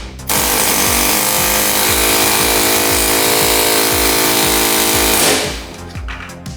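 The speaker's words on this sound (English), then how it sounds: "having to use the air hammer to break things free" Pneumatic air hammer pounding to break rusty parts free on an old BMW E30, a loud, rapid, continuous hammering for about five seconds before cutting off abruptly.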